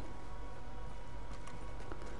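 A horse's hooves clip-clop steadily in the video game Red Dead Redemption 2, a continuous run of hoofbeats over a dense game soundscape with no talk.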